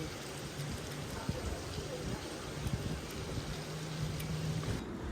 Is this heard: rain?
yes